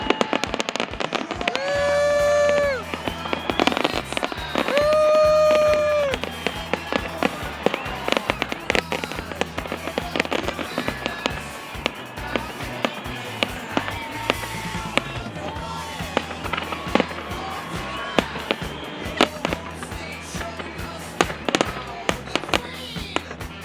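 Fourth of July fireworks at Lake Havasu: loud booming bursts with whistling rockets early on, then a dense, continuous crackle of exploding shells and firecrackers through to the end.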